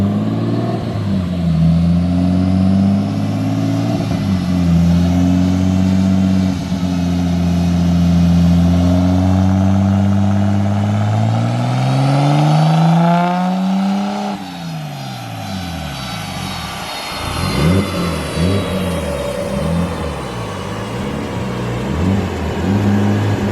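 A Nissan Skyline R33 with an RB25 engine revs hard on a dyno, a loud sustained drone climbing steadily in pitch over about fourteen seconds, dropping off, then rising again in wavering pulls.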